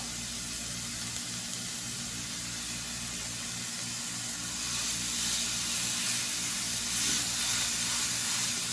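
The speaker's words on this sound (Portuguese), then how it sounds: "Vou colocar esse lado que eu já temperei pra baixo aqui na frigideira" A seasoned hamburger patty laid in a frying pan gives a soft, steady sizzle that grows slightly stronger partway through, with a low hum beneath.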